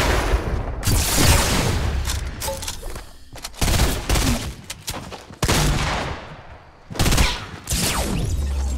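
Gunfire and explosions from the video game Fortnite come in loud, dense bursts of shots and booms, broken by a few brief pauses and lasting the whole stretch.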